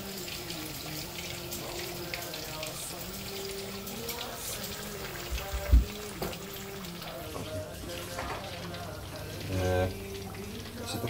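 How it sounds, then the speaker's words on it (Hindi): Fish sizzles in hot oil in a pan, a steady low crackle and hiss running throughout, with a voice speaking over it. "तो ये तकरीबन हमारी फ़िश जो है वो फ्राई हो चुकी है।"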